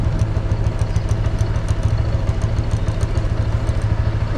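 A small, brand-new scooter engine idles steadily and close by in Phuket's Old Town, a low putter with a faint rattling clatter running the whole time, no voices.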